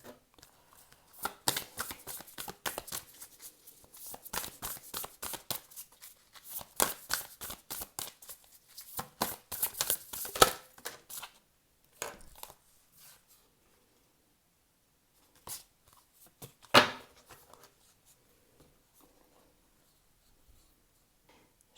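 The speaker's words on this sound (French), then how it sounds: "je tire les cartes devant vous à présent" Tarot cards being shuffled and drawn, with a burst of dense papery riffling and slapping up close for about twelve seconds, then quieter pauses broken by a few isolated card flicks and snaps.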